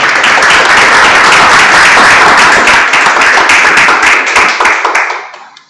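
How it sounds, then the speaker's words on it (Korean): An audience at a social workers' association political lecture applauds to welcome a speaker, loud dense clapping that holds steady and then fades out near the end. "안녕히 박수 부탁드립니다."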